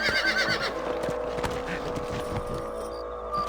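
Horse neighing and hooves clip-clopping in the Red Dead Redemption video game, a whinny up front followed by rhythmic hoofbeats under a dense game soundscape.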